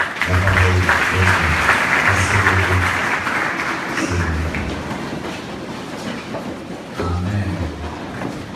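A church congregation bursts into loud, sustained applause and cheering after a scripture reading, with low instrumental tones underneath; the clapping gradually thins and fades toward the end.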